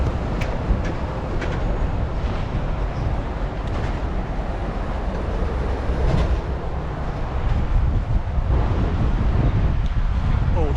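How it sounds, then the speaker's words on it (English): Wind blowing on an exposed cliff top, a loud continuous rushing buffet across the microphone that swells and eases, with faint voice-like murmurs beneath. "Oh, the wind is getting up already."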